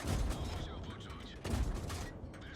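Tank cannons and gunfire boom in a World of Tanks battle, with two bursts of heavy blasts and rumble spaced about a second apart amid the game's noisy background.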